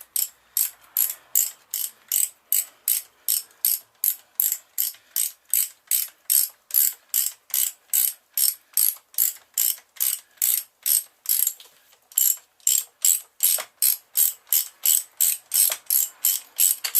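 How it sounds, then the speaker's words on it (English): A ratchet clicks in fast, even bursts while undoing the banjo bolt on the oil feed pipe of a classic Mini 1310 engine, loud, close and steady, with one brief pause partway through. "So you need to undo that banjo bolt and take it out completely."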